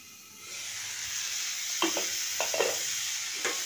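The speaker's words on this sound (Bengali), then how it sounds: "আর 2 মিনিট অন্তর অন্তর একবার করে নেড়ে দেব। যতক্ষণ না টমেটোটা নরম হচ্ছে ততক্ষণ এভাবে আমি কষিয়ে যাব।" Tomatoes for a village-style chutney sizzle steadily in a hot pan, with a few sharp scraping clicks from stirring near the end.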